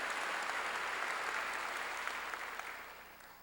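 A congregation at a church service applauds in a dense, even wash of clapping that holds steady and then slowly fades toward the end, with no clear speech.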